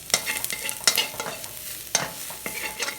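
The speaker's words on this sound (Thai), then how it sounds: "กระทะร้อนกระเทียมได้ที่เทน้ำมันลงไปก็เลือกเทผัก" Crackling sizzle of garlic and fresh vegetables stir-frying in oil in a hot pan, with sharp scraping stirs every second or so, close and busy, no voices.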